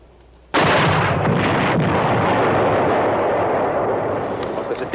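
A German 88 artillery gun blast erupts after a brief quiet moment, a sudden loud boom that settles into a long roaring rumble sustained to the end.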